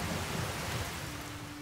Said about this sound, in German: Jetzt regnet's auch noch.